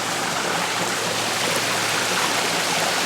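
Creek water flows steadily in a jungle setting with natural ponds, a broad continuous rushing wash with no pauses, close and fairly loud, with no talking.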